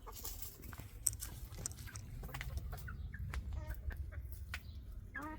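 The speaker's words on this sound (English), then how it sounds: "More chickens enjoying the sunshine." Faint, scattered clucking from a few chickens in a London self-sufficiency garden over steady low outdoor background noise, with no talking.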